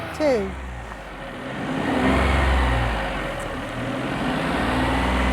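A car engine rises and holds at a steady revving drone, close by, after a brief squeal at the start.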